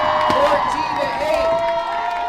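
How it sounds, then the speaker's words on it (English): A high school homecoming football crowd at a White Swan versus Highland varsity game cheers loudly after a touchdown, a dense mass of shouts and whoops with children's voices, while an announcer talks over it. "And the crowd goes wild."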